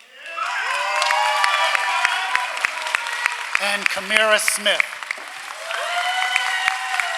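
Audience at a commencement ceremony applauds and cheers for award recipients, a dense sustained wash of clapping with scattered shouts, while a presenter's voice reads names over it.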